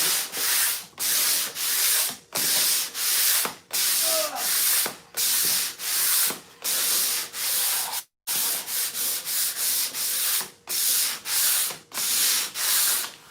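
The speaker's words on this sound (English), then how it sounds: "I'm just sanding now to smooth it out before I put a top coat on" Rhythmic hand sanding on painted wood, repeated scratchy back-and-forth strokes close by, evenly paced with a brief pause midway.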